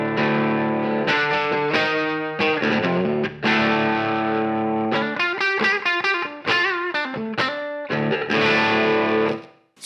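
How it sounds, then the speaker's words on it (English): An electric guitar played through a 70s plexi-style amp set just off clean, with reverb, rings out in a run of sustained chords and single notes separated by short gaps, loud and close. "So here is the sound of the amp without the Power 50."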